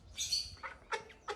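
A small bird gives quick high jiu-jiu chirps like a hen calling her chicks, several short bright calls close by against a quiet background.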